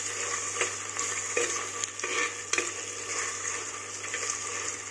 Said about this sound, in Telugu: అల్లం వెల్లుల్లి వేసాక కొంచెం ఫ్రై చేసుకుంటూనే ఉండాలండి